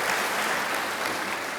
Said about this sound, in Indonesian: Yang setuju tepuk tangan bagi Tuhan Yesus.